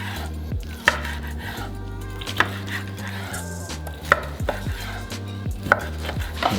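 Steak sliced into strips on a cutting board, a series of firm knife thuds and chops at an irregular rhythm, close and clear over a low background hum, no speech.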